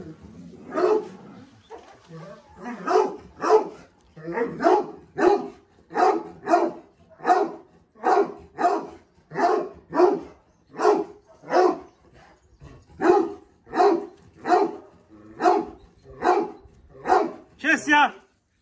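Two mixed-breed dogs barking repeatedly in a long, steady series of loud, evenly spaced barks, close by and continuing without pause.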